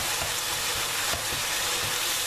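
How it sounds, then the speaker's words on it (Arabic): Chicken, onion, carrot and zucchini filling fries in a pan with a steady dense sizzle, and a utensil stirs it with soft periodic scraping strokes; close, continuous and free of talk. "بعدما أن تقلى البصل مع الدجاج، أضيف كل من الجزر والقرع الأخضر أو الكوسة. أدمج المكونات مع بعضها البعض"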